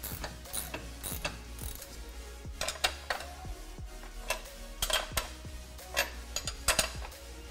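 A ratchet wrench clicks in quick repeated strokes while tightening a shock mount lock nut, with the sharp pawl rattles coming close and steady in short runs.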